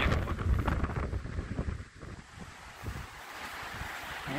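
Strong gusty wind buffets the microphone at a clifftop lookout at Hopewell Rocks, New Brunswick, with a steady loud roar of wind noise throughout and no talking.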